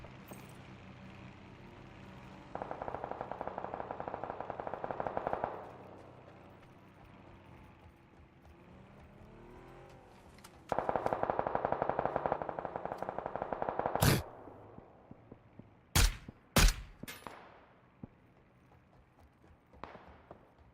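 Gunfire in the battle royale game PUBG, with two sustained rapid automatic bursts followed by a few sharp single shots, loud and close with quieter stretches between.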